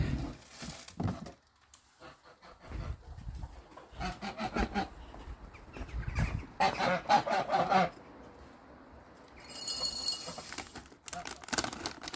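Geese honk in a loose cluster of calls outdoors after overnight rain, near and moderately loud, with stretches of quieter rustling and handling noise between the bursts.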